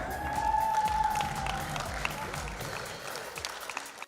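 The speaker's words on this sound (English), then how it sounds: "And we keep the applause going for Eulalie Downer, artisan craft trader," Sustained audience applause at an awards ceremony honouring long-serving artisan craft traders, a dense wash of many hands clapping through the whole stretch, with a faint voice or cheer briefly cutting through early on.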